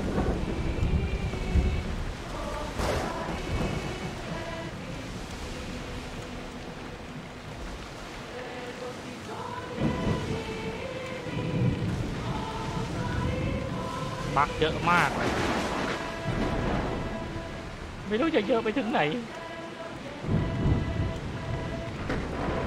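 Rain and rumbling thunder at sea on a boat in Assassin's Creed Odyssey, a steady wash of rain with a few heavier cracks and rolls, while someone talks over it.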